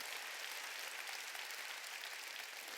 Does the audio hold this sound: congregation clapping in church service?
yes